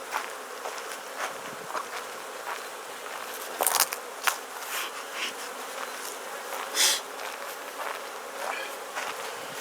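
Honey bees from a new package colony buzz steadily around a Langstroth beehive, a continuous close insect drone with occasional louder passes as individual bees fly near.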